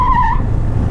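A Yamaha FZ 25 (2021) motorcycle with dual-channel ABS brakes hard on a road patch with some dirt, giving a short, sharp tire squeal for under half a second over steady low road and engine rumble.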